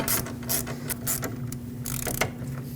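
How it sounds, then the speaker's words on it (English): A ratchet wrench with a 19mm socket tightens a rear brake caliper bolt on a 2006-2015 Lexus IS250, giving several quick bursts of close, crisp ratcheting clicks with short pauses between them. "with the 19mm socket we used earlier, tighten this up"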